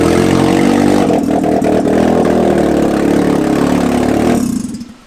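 A loud, rough car engine idling with open headers, an unmuffled exhaust giving a steady throbbing rumble that cuts off abruptly near the end.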